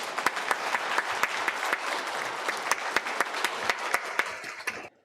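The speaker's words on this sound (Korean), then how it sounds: "큰 박수로 환영해 주시기 바랍니다." Warm audience applause fills a Catholic parish hall during a Legio Mariae training day at St. Joseph's Church in Irwon-dong, welcoming a priest with steady, dense clapping that holds for about five seconds before stopping abruptly.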